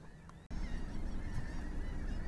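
A laughing gull calls outdoors, a run of loud nasal honking cries coming in quick succession close by, with no talk over them.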